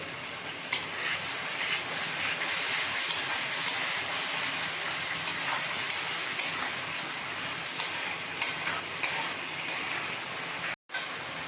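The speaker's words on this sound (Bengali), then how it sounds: "আর একটু জল দিয়ে আমরা কষাবো।" Masala spices frying and being stirred in a pan with a splash of water, giving a continuous loud steamy sizzle and hiss broken by occasional spoon scrapes and taps, with a brief cut near the end.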